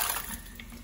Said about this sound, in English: So pour the whole thing into my filter bag